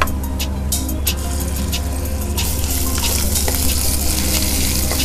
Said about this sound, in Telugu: కొద్దిగా అల్లం వెల్లుల్లి పేస్ట్ వేసుకోవాలి.